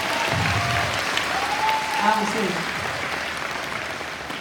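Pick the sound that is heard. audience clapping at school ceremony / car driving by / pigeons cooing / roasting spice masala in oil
audience clapping at school ceremony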